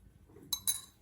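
A metal spoon clinks twice against a coffee cup of freshly frothed coffee, two quick, bright, close taps over a quiet room background.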